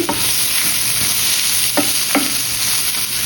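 Stuffed capsicum curry sizzles steadily in a pan, close by, while a spoon stirs it with a few scraping strokes over the continuous frying hiss.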